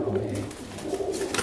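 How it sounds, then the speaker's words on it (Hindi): Pigeons cooing in an old haveli at night, soft repeated low coos with light rustling of movement, close and fairly quiet against a steady background hiss, with no talk. "ये कबूतर की जो हलचल हो रही है"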